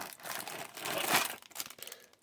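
Scissors cutting open the plastic packaging of a computer case fan, producing close, crinkly crackling and tearing sounds that rise to a loud crunch and then break into scattered short rustles.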